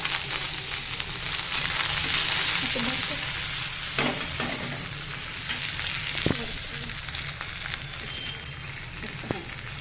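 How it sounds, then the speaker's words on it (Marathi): Cumin, bay leaf and coriander sautéing in oil in a pan, a dense steady sizzle close by with occasional spoon taps and scrapes as the mixture is stirred. "त्याच्यानंतर परतून घेऊ आपण सगळं असं"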